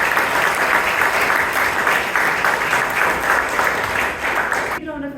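A room of Toastmasters club members in Bangalore claps vigorously to welcome their immediate past president, with dense, steady applause for about five seconds before it cuts off abruptly as a voice begins.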